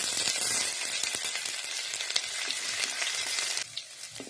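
Crushed ginger drops into hot oil already crackling with bay leaf, dried red chilli and panch phoron, raising a loud, dense, steady sizzle that eases slightly just before the end.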